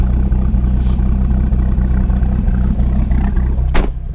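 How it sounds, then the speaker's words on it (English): A 2003 Dodge Viper SRT10's V10 engine runs loud and close, a deep steady rumble with light clatter throughout, swelling briefly near the end without any talking. "That V10 has a really unique sound that I'm pretty fond of."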